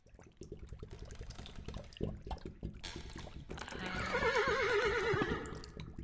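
A horse whinnies loudly in a wavering neigh near the end, preceded by clopping hooves and rustling movement.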